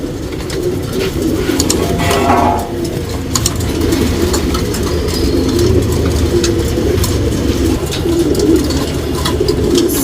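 A male Dhumali fancy pigeon coos from a loft, the soft calls set against loud, steady background noise that continues throughout.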